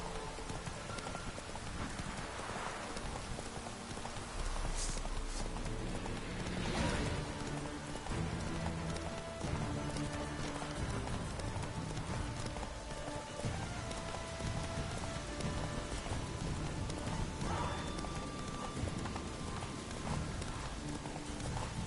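Galloping horse hooves in The Witcher 3 pound in a steady, rapid rhythm. A rain-like hiss runs beneath them, and the hoofbeats continue throughout with no talk.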